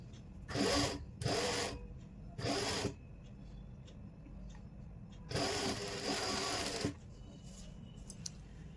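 A sewing machine stitches a suit shoulder seam in short buzzing runs, three quick bursts and then a longer stretch, close and steady against a quiet room.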